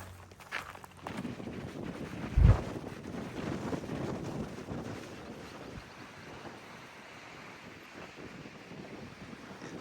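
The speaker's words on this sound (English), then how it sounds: "Windy." Strong wind buffets the microphone on a desert mountain hiking trail, a continuous roaring rush with a single heavy gust thump early on.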